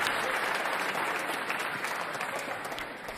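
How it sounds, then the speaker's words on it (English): Spectators at the 2022 U.S. Open women's squash final between Nour El Sherbini and Nouran Gohar applaud a rally, a thick, sustained wave of clapping that holds loud throughout and fades slightly at the end. "Crowd liked that one"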